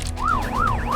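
An ambulance siren wails in a steady rising-and-falling sweep, three full cycles, close and loud over a low engine and road rumble, with no talk.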